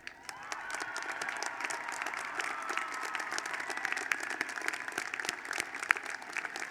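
Steady applause from a commencement audience honoring graduating students with academic honors at a business college ceremony, dense continuous clapping that holds at an even level throughout, without speech over it.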